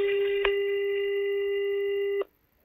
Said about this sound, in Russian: давайте попробуем набрать этот номер и договориться сегодня на встречу